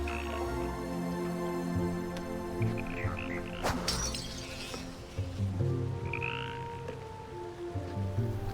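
A chorus of frogs croaks steadily and loudly in World of Warcraft Dragonflight's Waking Shores, with a sharp crash or clink partway through and no talking.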